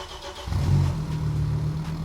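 A 5-cylinder turbocharged Audi S6 C4 engine cranks and catches, settling into a loud, steady idle close by after a brief quiet start.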